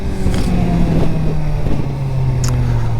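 A 2023 Suzuki GSX-R600 motorcycle being ridden, its engine a loud, close, steady drone with a slowly falling pitch and a brief brighter burst near the end.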